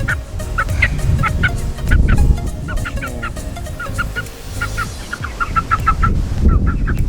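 A rooster and several hens cluck and call repeatedly nearby, a busy barnyard chorus of short squawks over a low rumbling background.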